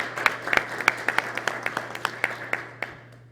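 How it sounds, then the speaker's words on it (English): A small audience at an annual business meeting claps for an award recipient: sparse, distinct handclaps in an uneven rhythm, fairly close, thinning out and fading by the end. "Please give Lisa a round of applause."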